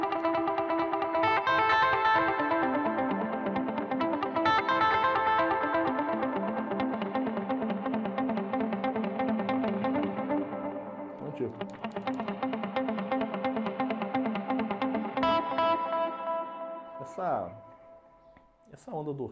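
An electric guitar played through an Arena Reverb and a drive pedal rings out cascading arpeggios, dense and washy with distortion and long reverb tails. The notes fade out near the end, where a short fresh phrase begins.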